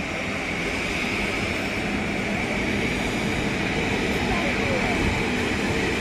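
A steady, broad roar of aircraft engines fills the scene near an airport runway where planes line up one behind another, heard from a hillside viewpoint, constant and fairly distant.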